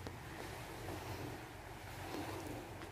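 Sea waves wash steadily at Licoson Beach in Mobo, Masbate, a continuous broadband surf roar with wind buffeting the microphone, close and fairly loud with no voices.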